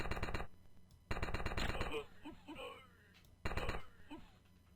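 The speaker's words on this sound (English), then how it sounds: "5 is a high-speed machine gun" Rapid high-speed machine gun fire from the video game Flashpoint, heard in three loud bursts of dense shots with short pauses and echoing impacts between them.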